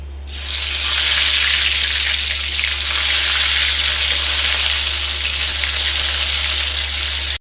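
Eggplant pieces fry in mustard oil with a loud, steady, dense sizzle that holds unbroken from start to finish, with no voices.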